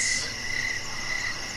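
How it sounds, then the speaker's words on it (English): Crickets chirp in a steady, continuous high trill that stays fairly loud and even throughout, with no voices over it. "Crickets. Crickets."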